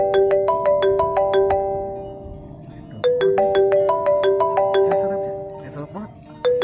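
A telephone ringtone plays a repeating chiming melody, loud and close, pausing briefly before starting again with voices faintly underneath.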